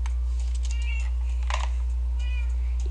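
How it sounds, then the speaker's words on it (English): A couple of soft meows from a video game cat over a constant low electrical hum, with light clicking taps in between. "Okay, I can hear meowing."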